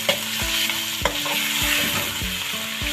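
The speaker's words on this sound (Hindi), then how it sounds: "इसको मैं प्याज के साथ हल्का सा इसे भी फ्राई कर लूँगी ताकि ये चिकन का कलर भी चेंज हो गया" Chicken and onions frying together in a pan for biryani, a constant loud sizzle punctuated by regular knocks and scrapes of a spoon stirring, roughly every half second.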